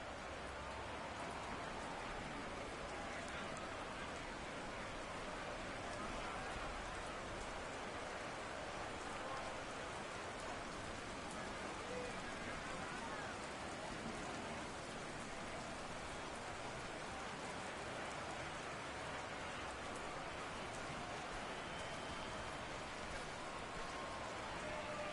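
Steady heavy rain pours throughout an NFL wild card playoff game between the Seahawks and 49ers, a dense, even hiss with no breaks and no clear voices above it.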